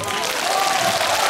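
Concert hall audience clapping at a Busan MBC Dream Hall concert, a dense, loud burst of applause with a faint sustained tone running underneath.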